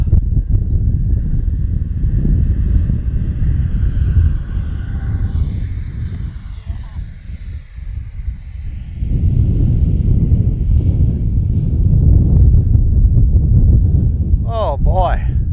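An FMS Dassault Rafale 80mm RC jet taking off at full throttle into the wind, a loud continuous turbine whine and rumble that dips midway then swells again, with someone talking over it.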